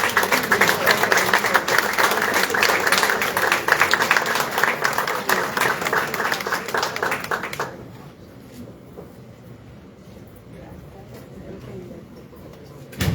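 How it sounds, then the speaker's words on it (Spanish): Audience applause at a law congress on assisted reproduction, loud and dense for about eight seconds, then cutting off into a quiet room with faint sparse claps. "Un aplauso, por favor."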